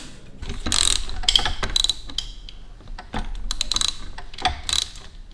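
An Allen wrench removes the small peephole covers on a 2022 Honda Grom engine, giving close metallic ratcheting clicks in short bursts with pauses between them.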